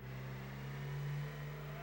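A low, strained car engine drones steadily in the Gran Turismo 2 racing game, a faint humming tone that barely changes pitch, heard alone.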